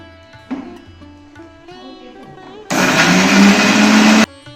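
A kitchen mixer grinder blends poppy seeds, mustard, cashews, chillies and tomato into a paste, starting abruptly with a loud, steady whirring roar for under two seconds before cutting off, after quieter clatter.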